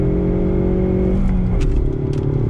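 Ford Mustang EcoBoost with a 6-speed manual, engine droning loud and close under load before its pitch drops through an upshift, then pulling again.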